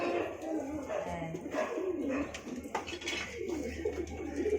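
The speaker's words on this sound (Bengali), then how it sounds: "এই যে এখানে পায়রা" Pigeons coo in soft, repeated throaty calls at a bird-keeping place, with people talking over them for much of the time.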